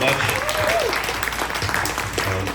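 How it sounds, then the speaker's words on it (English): Audience applause for a panelist at a Burmese-American community event, a steady wash of clapping lasting a few seconds, with a voice briefly audible over it near the start. "So just one more big round of applause for this panelist."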